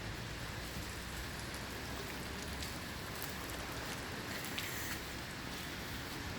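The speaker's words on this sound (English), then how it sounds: "It's raining extremely hard" Heavy rain pours steadily, a dense, unbroken hiss of drops drumming on surfaces with no pauses or voices.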